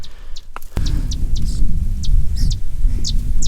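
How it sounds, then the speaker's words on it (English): A territorial sedge wren sings close by in a spring bog, with several short, high, dry chips and trills spaced through the clip over a steady low rumble of wind or background noise. "but a very territorial sedge wren."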